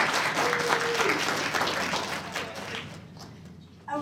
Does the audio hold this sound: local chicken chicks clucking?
no